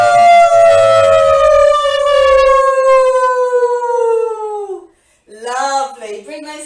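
A yoga class breathing out together in a long imitated wolf howl, voices sliding slowly downward in one sustained falling tone before a brief pause and a shorter second howl.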